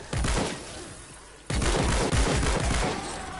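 A Hydra gun in Fortnite Save the World fires on an encampment in loud rapid bursts of gunfire, two sustained volleys split by a short break.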